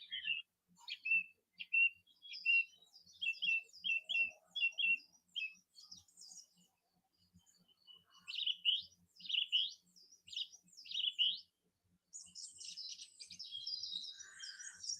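Repeated chirping bird calls come in quick series of sharp tweets, a recorded birdsong track played indoors, with short silent gaps between phrases and a shriller burst near the end; fairly soft, no talk.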